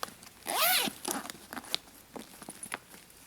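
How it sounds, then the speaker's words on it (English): A small zip-up pocket on a fabric craft bag is zipped closed with a quick, close zipper rasp, followed by faint soft handling rustles and light clicks. "that pocket is also a little zip-up compartment"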